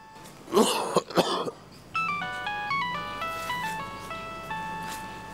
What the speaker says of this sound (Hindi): मेरे मोबाइल में देखो जरा किसका फोन आ रहा है